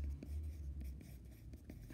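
A hard graphite pencil scratching across paper, quick light strokes repeating at a steady pace, close and quiet with nothing else heard.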